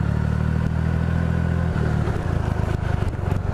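Scooters putter and rattle nearby in a continuous, uneven drone, idling and moving along a busy downtown street.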